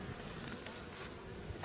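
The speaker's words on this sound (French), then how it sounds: "Donc là on voit la ruche, pas mal d'abeilles." Honeybees swarm around a hive entrance, a faint steady buzz of many wings droning close by with no voices over it.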